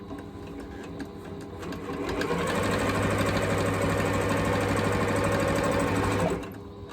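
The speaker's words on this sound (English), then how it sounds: "Now I'm going to sew the ends of this together." Sewing machine stitching together the ends of a quilted Christmas stocking: a loud, steady mechanical whir with a rapid needle rhythm that ramps up after two seconds, holds, then stops abruptly near the end.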